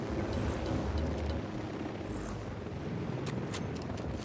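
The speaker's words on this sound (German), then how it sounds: "Da sind zwei Helikopter" Two helicopters in the video game Ghost Recon Wildlands make a steady, low rumbling drone that holds throughout, with a few faint higher clicks and ticks near the end and no speech.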